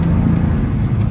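Car driving through traffic in the rain, a steady close low rumble of road and engine noise that holds constant without any talk.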